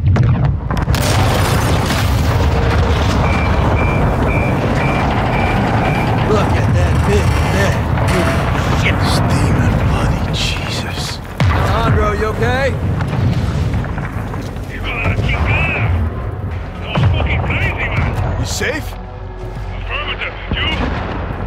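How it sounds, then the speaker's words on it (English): Missile strike blowing up an offshore oil rig in a realistic military shooter set in the Gulf of Mexico: heavy sustained booming and rumbling explosions with crackling debris, loud and continuous, under radio voices. "All stations, prepare for the boom."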